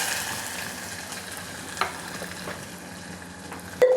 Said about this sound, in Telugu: ఉల్లిపాయలు కొంచెం గోల్డ్ కలర్లో వచ్చేలాగా వేపుకొని